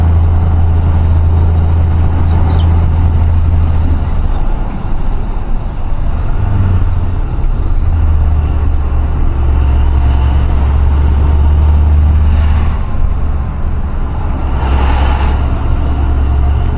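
A truck climbs the Chiplun ghat road, recorded from the driver's head. Its engine is a loud, close, steady low drone, with brief hisses and rattles over the top.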